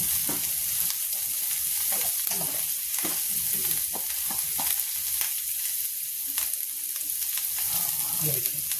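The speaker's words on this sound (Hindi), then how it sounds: "तो अब इस प्याज को भून लेते हैं और साथ में इसमें डालेंगे हम हींग।" Chopped onion and asafoetida frying in a pan for a broad bean seed and potato curry, a dense, continuous close sizzle with frequent soft crackles and stirring scrapes throughout.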